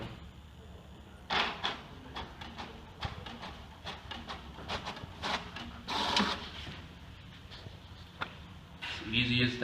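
A small printer inside a homemade automatic mailbox prints a letter, with a whirring, clicking feed and sharp mechanical bursts coming in uneven pulses, while a person speaks over it.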